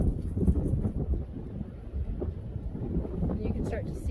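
Steady wind buffets the microphone on a gusty day beside the fast-moving Maumee River near a bridge, a continuous rumbling roar with faint talk in the background.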